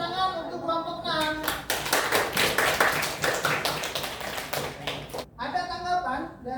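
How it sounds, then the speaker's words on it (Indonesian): Classroom applause for a student presentation group, a dense burst of hand clapping lasting several seconds and ending abruptly, with voices heard before and after it. "Beri tepuk tangan untuk kelompok 6."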